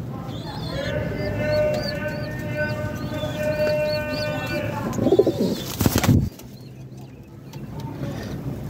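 A male pigeon coos close by in a series of low, rounded, repeated calls. A short burst of louder rustling or handling noise then cuts the cooing off, leaving a quieter background.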